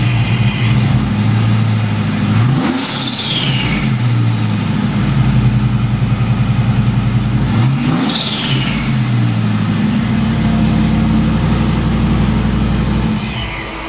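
Supercharged 2005 Chevrolet Trailblazer engine idling loudly up close, then revved twice with sharp climbing wind-ups that fall back, the supercharger whine rising with each blip before settling into a steady rumble.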